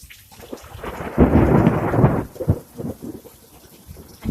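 Thunderstorm in the Texas Hill Country: a loud, close rolling rumble of thunder swells and fades over steady rain, with scattered drops and crackles continuing afterward.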